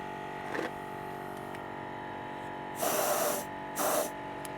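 An air pump pushes air into the tire of a 1996 Chevy Tahoe in two short, loud hissing bursts that stand out against a steady background hum, with a quieter puff earlier on.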